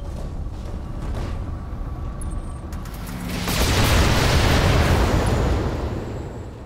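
An enemy mech explodes in BattleTech, a deep rumbling blast that swells midway and rolls on for several seconds over a low mechanical background hum.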